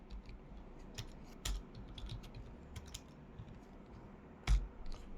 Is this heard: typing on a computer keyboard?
yes